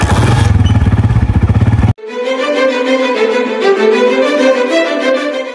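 A borrowed motorcycle with a punctured tyre rumbles close by in a rapid, pulsing engine beat, then cuts abruptly to a quieter, rattling idle-like drone for the rest of the stretch.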